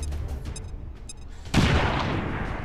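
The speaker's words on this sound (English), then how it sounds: "Grenade out!" A grenade blast in XCOM 2 lands as a sudden loud burst about midway, breaking over a steady murmur of game battle noise and trailing into a broad rumbling wash that lasts to the end.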